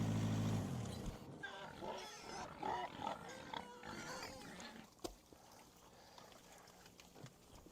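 Pigs on a farm being fed pumpkins grunt and snort close by, with chewing and shuffling noises in a busy mix that thins out toward the end.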